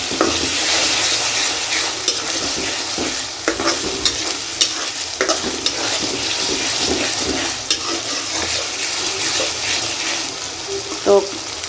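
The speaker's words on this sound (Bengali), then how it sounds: "মিক্স করে ভালো করে কষিয়ে নেব।" Garlic and ginger paste being stirred and fried in a pan for a beef brain bhuna, with a loud, steady sizzle broken by repeated spoon scrapes and clinks across the whole stretch, ending in a sharper knock.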